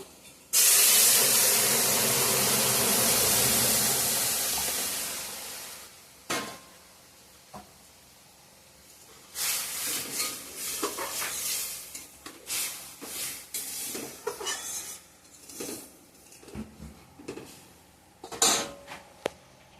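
Masoor dal tipped into hot oil tempered with bay leaf, panch phoron, dried red chillies and turmeric gives off a loud, hissing sizzle for about five seconds. It then dies down to faint pan clatter and scattered knocks.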